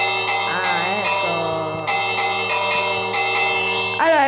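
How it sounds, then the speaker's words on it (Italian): A sustained bell-like tone with bright harmonic overtones rings steadily for several seconds in a Minecraft game, shifting pitch slightly a few times and standing alone without talk. "Non suona più la campana?"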